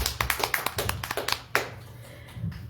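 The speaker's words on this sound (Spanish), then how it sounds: "los recibimos con un fuerte aplauso" Scattered audience clapping at a book presentation in a bookstore, a handful of sharp, uneven hand claps that thin out and fade after a couple of seconds.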